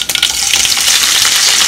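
Mustard seeds spluttering and popping in hot oil for a Goan prawn balchao, a dense close crackle of tiny pops and sizzle that runs steadily throughout without any talking.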